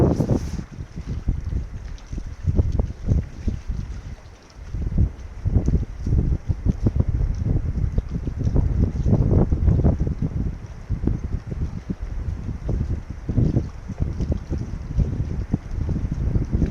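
Steady wind buffets the microphone in a forest throughout, a continuous low roar with gusty surges and no voices.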